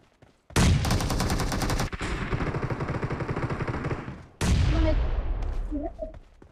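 Rapid automatic gunfire in a shooting video game comes in two dense, loud bursts of rattling shots separated by a brief pause, with faint game effects at the end.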